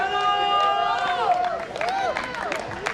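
A volleyball team and audience at a league prize ceremony cheering together, a loud burst of overlapping shouts and whoops with rising and falling voices over crowd noise.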